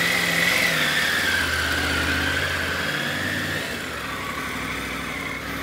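A motorcycle engine runs at a steady idle with a slight rise in pitch early on, close and continuous, with no voices over the low mechanical hum.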